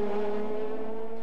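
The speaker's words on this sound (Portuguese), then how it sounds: "um arranque rápido dos primeiros da grelha de partida" Race cars leave the starting grid at the Vila Real street circuit, a steady, sustained engine drone with strong harmonic tones, moderately loud and unbroken.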